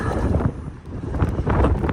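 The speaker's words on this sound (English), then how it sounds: "Very nice indeed, very windy, rather wet" Strong wind buffets the microphone in heavy, uneven gusts at a wet winter wild-camping spot, with low rumbling roars rising and falling and no voices.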